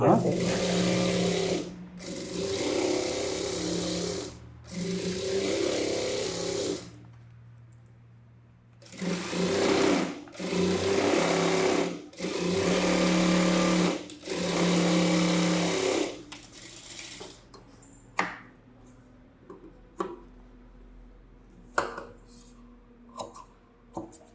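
A sewing machine stitches two blouse pieces together in several loud, close, steady bursts separated by short pauses, followed by scattered clicks and handling noises.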